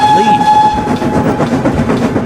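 A steam engine gives a sustained whistle over the rumble and clatter of a fast-moving train, loud and near, the tone fading as the rolling noise carries on.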